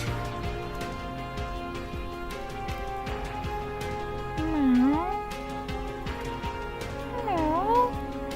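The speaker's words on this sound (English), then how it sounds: "She gets down and pets the cat, who seems scared at first, but then relaxes" Cat meows from the Bionic Heart video game, two drawn-out rising and falling calls over steady game music and ambience, moderately loud and close.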